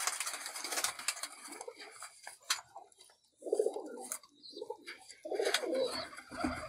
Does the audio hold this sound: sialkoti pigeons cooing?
yes